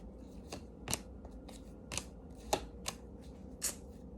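Tarot cards are shuffled in close, crisp riffling snaps, about a dozen quick irregular flicks at a quiet level with no talking.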